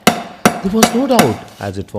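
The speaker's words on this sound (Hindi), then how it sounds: "Those are the hammer strokes from an iron mill" Heavy hammer strokes from an iron mill land in a steady, rhythmic series of sharp metallic thuds, fairly close and loud, while a narrator reads aloud over them.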